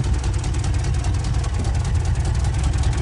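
1967 Lincoln with a newly finished exhaust idling, a deep, steady low rumble with a faint rhythmic pulse, close by and fairly quiet, no talking.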